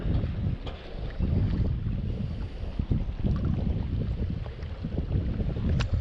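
Strong wind blows across a lakeshore during bank fishing, buffeting the microphone with a loud, continuous low rumble and gusty surges and no voices.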